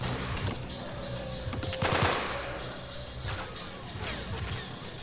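Machine gun fire from a firefight in Delta Force: Black Hawk Down, with rapid bursts and scattered shots plus a heavier crack near the two-second mark, set against constant battle ambience.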